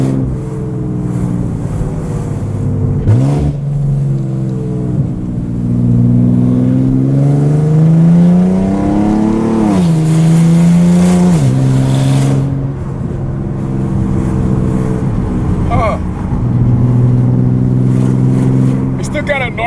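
A Nissan 370Z with a cheap aftermarket catback exhaust revs and drops with a throaty exhaust note as it shifts gears, heard from inside over steady road noise, with someone talking at times.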